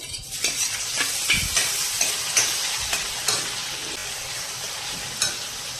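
Onion dropped into spices sautéing in hot oil for Mehsana-style tuver totha, a steady close sizzle with repeated stirring scrapes and clicks throughout, no voices.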